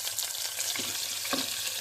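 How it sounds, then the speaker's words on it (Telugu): Chopped onions dropped into hot oil with sizzling tempering spices for a Telugu gongura brinjal dish, a steady close frying hiss with a couple of brief stirring scrapes. "ఇప్పుడు ఇవి చిటపటలాడుతానే ఉల్లిపాయలు వేసుకోవాలి."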